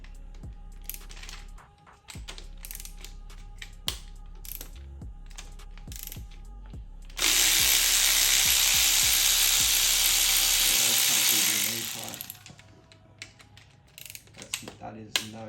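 A hand ratchet clicks rapidly and repeatedly as 8mm rocker cover bolts are cracked loose, close and crisp. A louder, rushing whir of about five seconds breaks in partway through, and scattered clicks follow it.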